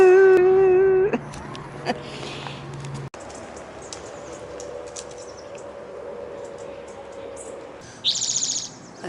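Birds chirp and tweet in several short bursts, with a clear whistled call early on and scattered calls over a steady outdoor background.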